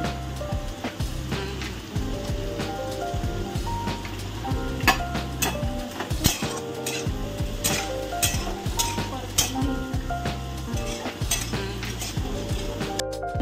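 Garlic, onion, chilli and cumin frying in a pan, a steady sizzle beneath frequent metallic clinks and scrapes of a utensil stirring against the cookware, close and moderately quiet with no talk.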